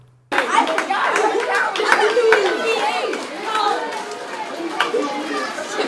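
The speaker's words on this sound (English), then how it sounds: "Students and staff at Spring Creek Elementary participated in a clap out for fifth grade students" Students and staff at Spring Creek Elementary clap for departing fifth graders lining a school hallway: steady, dense clapping with children's chatter and excited voices throughout, close and loud.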